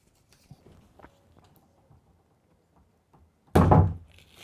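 A wooden block is knocked free during kitchen drawer building on a narrowboat renovation, giving one loud, sharp thunk after several seconds of faint small taps and handling noises.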